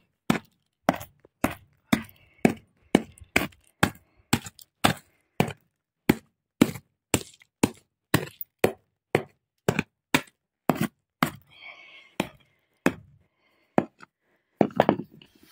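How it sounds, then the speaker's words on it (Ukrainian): Two glass bottles are pounded into tiny shards by a long run of steady, heavy strikes about two per second, each a sharp crunching thud, close and without talk. "Розбила дві пляшки і так розбиваю на міленькі-міленькі друзки, щоб було мілесеньке-мілесеньке скло."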